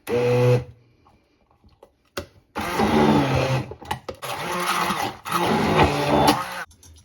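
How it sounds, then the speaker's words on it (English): A blender purees red lentils with a little olive oil in short bursts: one quick pulse, a pause with faint clatter, then two longer loud whirring runs separated by a brief stop. "now let's puree it some more"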